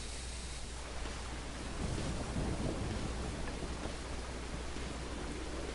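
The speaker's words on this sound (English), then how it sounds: "now it's rainy." Steady rain with low rumbling thunder in the video game Dirge of Cerberus, a broad wash of noise that swells after about two seconds and holds at a fairly loud level.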